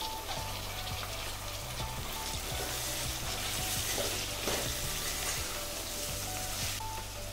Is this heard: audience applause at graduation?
no